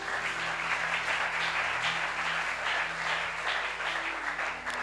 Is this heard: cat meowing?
no